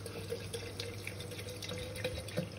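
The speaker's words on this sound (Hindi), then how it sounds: "तो हम इसमें वाटर ऐड करेंगे।" Water poured into a container holding watermelon pieces for a homemade watermelon detox drink, a steady faint trickle and splash with small drips over a low background hum.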